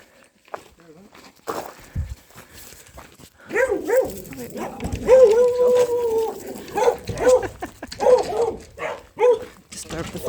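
Dogs on a working farm barking at night near a caravan campsite, several sharp barks and whining yelps in the second half, with a person talking and footsteps nearby.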